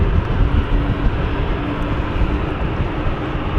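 A jet aircraft departing London City Airport, a loud continuous broadband engine roar that holds steady for the whole stretch with no voices over it.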